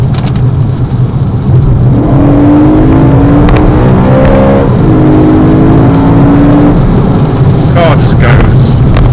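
A 2012 BMW M3 with the 4.0 V8 accelerates hard on a wet road, its engine note rising steadily in a loud continuous roar with road and rain noise close by.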